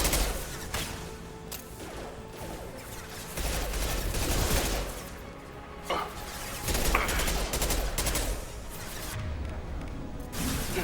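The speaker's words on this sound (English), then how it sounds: "Firing now." Rapid gunfire in the video game Mass Effect 2: repeated loud bursts of shots and sharp cracks, some close together like automatic fire, fill the clip with little talk.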